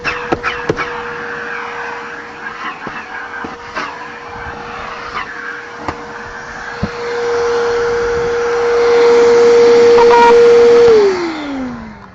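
A vacuum cleaner works over a car's interior carpet, with scattered scraping clicks and knocks under a steady whine that swells louder near the end and then drops in pitch as the motor winds down.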